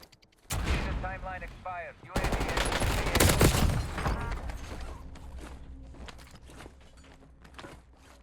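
Loud bursts of Call of Duty: Warzone gunfire, rapid automatic shots and heavier blasts, fading into sparser distant shooting with scattered footsteps.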